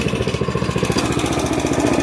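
Small petrol engine of a garden railway locomotive running steadily close by, a rapid, even chugging throb with a buzzy mechanical edge that holds constant throughout, no voices over it.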